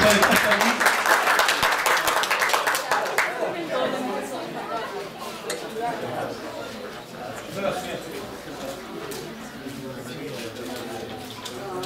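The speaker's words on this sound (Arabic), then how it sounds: "تصفيق آخر للمشارك الثاني" Applause from the audience at a national photography salon closing ceremony in Merouana, Batna, loud at the start and then dying into crowd chatter and scattered voices.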